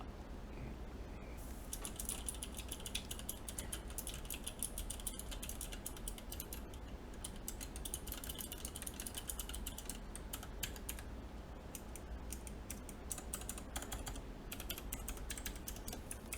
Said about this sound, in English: I'll keep typing for you.